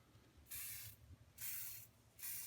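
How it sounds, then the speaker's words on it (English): Three short bursts of spray paint hiss from an aerosol can, each about half a second long with brief pauses between, close and crisp over a quiet room. "I'm just going to give it a little, just a little spritz"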